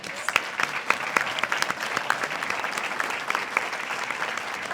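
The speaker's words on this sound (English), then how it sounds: "Please join us in a round of applause to thank them for their contributions." Audience applause at a community MLK gathering and breakfast in Glendale, a steady spatter of many hands clapping in a hall, moderately loud and even, with no talk over it.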